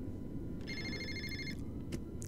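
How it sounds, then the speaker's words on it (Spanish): In the video game Fahrenheit, a telephone in an apartment at night gives a single electronic ring lasting about a second over steady background hum, with no talk. "está sonando el teléfono"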